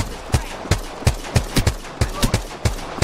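Rhythmic gunfire at long range in Apex Legends, about a dozen evenly spaced punchy shots firing steadily, loud and close, with no talk over them.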